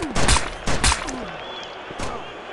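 Gunfire in a paintball shooter video game comes as a few punchy, thudding shots in quick bursts with a later single shot, mixed with game effects.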